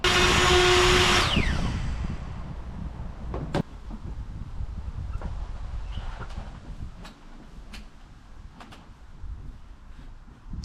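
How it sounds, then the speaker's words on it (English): A handheld router with a small cutter, guided by a jig, cuts the corners out of a wooden wall plate for a lap joint. A loud close whine runs briefly, then winds down into scattered clicks and knocks. "we're going to router the corners out, but using a smaller router cutter."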